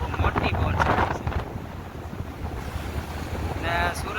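Strong seaside wind buffets the microphone in loud, rough gusts, with surf-like rushing underneath and brief bursts of voices in the background.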